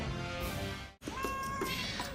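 A cat meows in a commercial, a couple of short mewing calls heard close and clear over a busy mixed background, with a brief dropout partway through.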